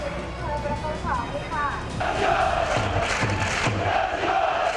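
Japanese Urawa Red Diamonds supporters mill about outside a stadium in Thailand, a busy crowd murmur with scattered shouts and chanting voices that swell louder partway through.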